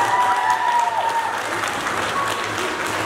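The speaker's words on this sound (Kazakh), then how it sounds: "бүкілі шапалақ ұрды Нұрболға" A roomful of guests at a Kazakh cradle celebration (besik toi) applaud together, a dense, loud, steady clatter of many hands that holds for several seconds.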